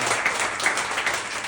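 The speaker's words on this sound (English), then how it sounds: "Give yourselves a round of applause." An audience at a comedy headliner set gives steady, full applause, a continuous wash of clapping from the crowd for the whole moment.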